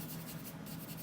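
Vine charcoal rubbed and blended over charcoal pencil marks on paper while shading a retriever puppy drawing, a soft continuous close scratchy rubbing with steady low hum beneath.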